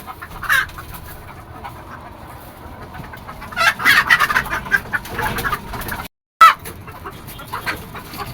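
Chickens on a rooftop farm cluck and flap in alarm, with scattered bursts of wing-beating and agitated calls over a steady background hum, one sharp loud flurry near the end.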